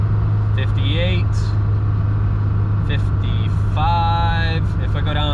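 Mercedes 240 engine straining at full throttle up a big hill at altitude, around 60 mph, a steady low drone running throughout with faint chirpy tones over it.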